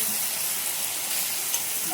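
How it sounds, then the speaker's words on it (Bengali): Spices frying in a pan with onion, garlic, tomato and capsicum for a kosha-style meat curry, giving a brief, even, hissing sizzle close by with no talking. "এখন আপাতত মশলাটা ভাজছি।"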